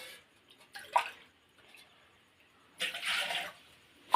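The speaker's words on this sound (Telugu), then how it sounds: "ఇదిగో 2 గ్లాసులు వాటర్ పోసుకున్నాను." Two glasses of water poured into a pot for ragi porridge: short splashing bursts with small drips, one near the start and a longer, fuller pour later, then a final splash, with quiet gaps between.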